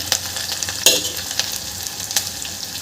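Onions sautéing in a pan until golden, a continuous near sizzle with a few sharp spoon scrapes and clinks standing out, no voices.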